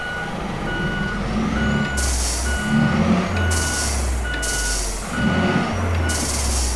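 Scania truck in Euro Truck Simulator 2 running a modded engine sound, a deep rumbling engine with repeated reversing beeps and several hissing air-brake bursts, loud and continuous with no talk.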